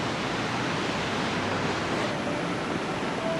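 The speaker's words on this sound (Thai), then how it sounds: "อันนี้คือน้ำตกนะฮะ น้ำตก น้ำตกของฟีมือมนุษย์นะฮะ เป็นที่สร้างขึ้นมา" A man-made waterfall at a Thai rest and viewpoint spot pours steadily, giving a continuous broadband rush of falling water that stays even and fairly close throughout, with no voices over it.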